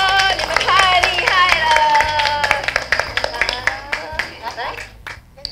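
An audience clapping at a children's theatre show by the Kaohsiung library troupe at the Gangshan cultural center: a close burst of scattered, uneven claps that thins out toward the end, with voices calling and talking over much of it.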